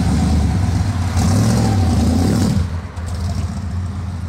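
Deep, throaty engine of a Mercedes C63 AMG rendered in a game sound mod, revving loudly with a rising, rumbling tone, then dropping off sharply before settling into a lower steady run, with no talk.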